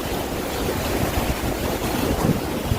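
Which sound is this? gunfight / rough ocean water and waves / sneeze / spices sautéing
rough ocean water and waves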